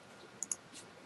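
Two quick, faint clicks of a computer mouse in close succession, with a softer third tick after, over a low background hiss.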